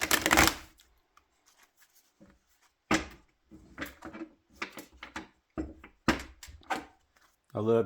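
Tarot cards shuffled by hand for a reading, a few brisk riffling bursts separated by pauses, close and fairly loud, with no talk over them.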